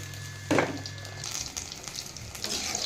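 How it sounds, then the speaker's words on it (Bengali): Sliced eggplant dropped into hot oil for shallow frying, giving a sharp burst of sizzle followed by a steady, quieter crackle and spatter close by. "বেগুনটা তেলের মধ্যে দিয়ে দেবো"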